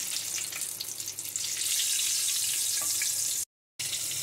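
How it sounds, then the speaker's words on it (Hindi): Green chillies and black cumin (kalonji) fry in hot oil for an eggplant and hilsa fish dish, a steady close hiss and crackle of sizzling that holds throughout with one brief dropout near the end. "हरी मिर्च और काला जीरा अच्छे से भून लिया है"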